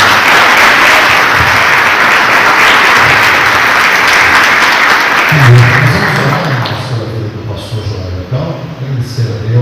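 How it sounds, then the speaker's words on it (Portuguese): A church congregation at a Brazilian evangelical service claps loudly and continuously in praise, dense applause filling the room before fading, with a voice speaking over the end. "Vamos aplaudir o nosso Deus."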